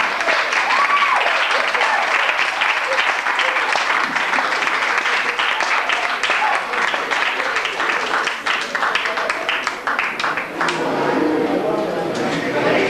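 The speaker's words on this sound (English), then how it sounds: "Ladies and gentlemen, please give Marissa another big round of applause" A club audience applauds singer Marissa at a live comedy and music night, dense sustained clapping and cheering that fills the room for the whole stretch, steady and loud with a brief whoop near the start.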